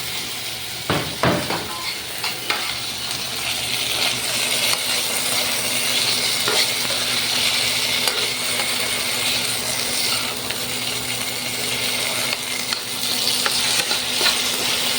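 Onions, garlic and tomato sautéing in a pan before mussels go in, a loud continuous sizzle with a few early utensil clinks and scrapes, close, no talk.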